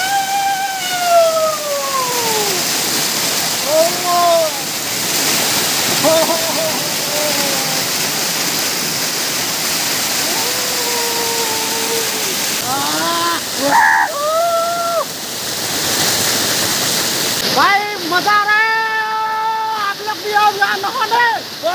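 Borjhora waterfall produces a steady, loud rushing roar of falling water throughout, while voices call out and chatter intermittently over it.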